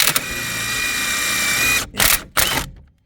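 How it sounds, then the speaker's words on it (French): An impact wrench works on a stabilizer link nut on a car. One long, loud rattling burst is followed by two shorter bursts separated by abrupt silences. "voilà, je mets ma clé à choc."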